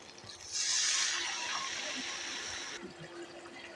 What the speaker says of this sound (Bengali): এর মধ্যে এখন দিয়ে দেবো জল